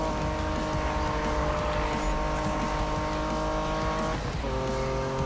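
Porsche racing in Need for Speed, its engine holding a loud, steady high-revving whine throughout, with a quick gear change near the end and faint tire noise beneath, no voices.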